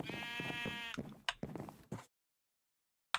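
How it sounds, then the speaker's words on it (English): A sheep in the video game Minecraft gives one clear, wavering bleat up close, followed by a few short rustling game sounds and then silence. "there goes a sheep"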